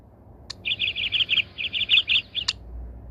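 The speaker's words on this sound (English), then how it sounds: "Canary." A canary sings in a kids' animal game, a bright rapid string of clear chirping trills lasting a couple of seconds, framed by two short sharp clicks, close and alone.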